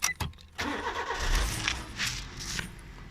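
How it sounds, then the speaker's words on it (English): A Suzuki Swift 1.3 litre engine cranks with a few quick turns, catches and runs at a steady idle nearby, with slight rises in pitch as it settles. "we'll just start her up so you can hear the engine running"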